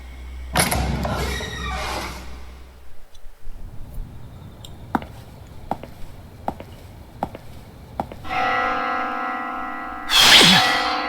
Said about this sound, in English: Where's the bell sound coming from?